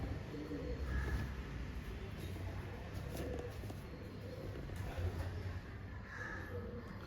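A pigeon chick makes soft, faint cooing calls that recur now and then over a steady background hum, with no voices.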